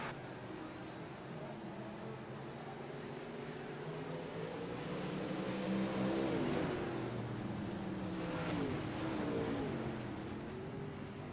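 Race cars circle a dirt track during a heat race, a steady broad engine roar with rising and falling pitch sweeps as cars pass, loud and continuous throughout.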